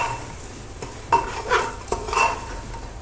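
Mutton with ginger-garlic paste stirred in a hot pan: a few close scraping strokes of a utensil over a soft sizzle, with light clinks against the pan and no talking.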